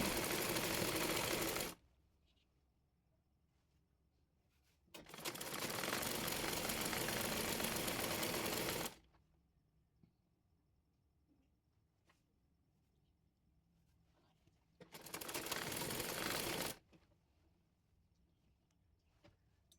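A sewing machine stitches the folded-under hem of a child's fatua in three separate runs, loud bursts of whirring separated by stretches of near silence, with no voices.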